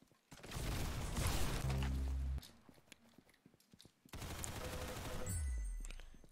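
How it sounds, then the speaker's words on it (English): Video game gunfire crackles in dense automatic bursts, loud and close, with a pause of scattered clicks and impacts between two long volleys; no talk. "I just kept shooting and shooting."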